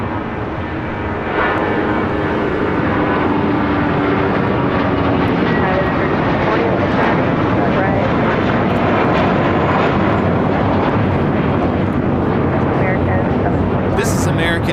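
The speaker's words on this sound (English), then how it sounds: "This is American Airlines 721 taking off to Phoenix on an A321" An American Airlines A321 jet takes off at LAX, its engines building into a loud, sustained roar that dominates throughout, with faint talk beneath.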